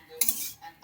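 A metal utensil clinks against a pan while rice is being fried, one short bright clatter followed by a fainter tap, close and quiet.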